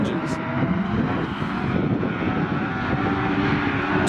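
An autograss race car powered by twin motorbike engines drones steadily at Oxton Raceway, a loud sustained engine roar filling the whole stretch with slight swells.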